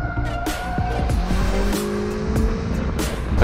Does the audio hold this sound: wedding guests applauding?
no